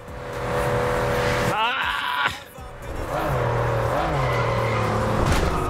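A fast car in the racing game Test Drive Unlimited runs at high speed, its engine droning steadily with gear shifts, a brief drop and rising revs, while a voice talks over it.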